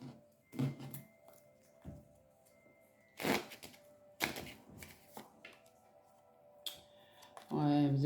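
Tarot cards shuffled for a card reading, a few separate bursts of riffling and slapping cards spread over several seconds with quiet gaps between, ending in a louder shuffle.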